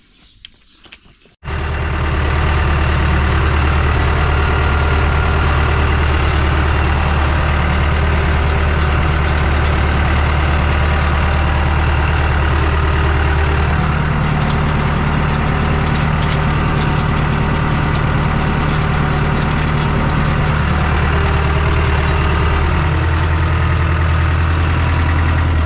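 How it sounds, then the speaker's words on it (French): A tractor engine idles steadily at close range on a farm during sunflower hoeing, a loud, continuous low rumble that starts abruptly after a quiet moment and holds for over twenty seconds. "je m'éloigne un petit peu du tracteur"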